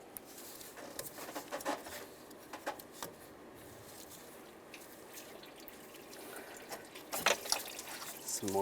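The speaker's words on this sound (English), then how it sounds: "Some more coolant's going to come out." Engine coolant drains from a disconnected heater hose on a 2007-2013 Chevy Silverado during timing cover work, with faint irregular trickling and dripping, a few light knocks, and louder spattering and clinks toward the end.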